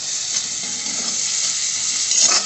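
Masala spices fry in a pan with a steady, bright sizzle and occasional stirring, close and alone without talk.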